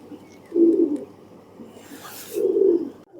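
Two low, soft pigeon coos, close by, separated by a pause, with a brief rustle between them.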